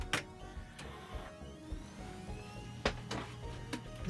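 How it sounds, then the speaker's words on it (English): Amiga 1200 hard drive running inside an Eyetech EZ-Tower: a steady low whir with sharp, irregular seek clicks scattered throughout, close and fairly quiet, with no talking. "As you can hear the hard drive there."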